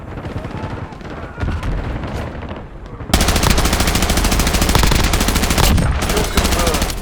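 Rapid automatic gunfire in Call of Duty on Rebirth Island, loud and dense, with a short burst giving way to sustained, close firing and faint radio-style voices underneath.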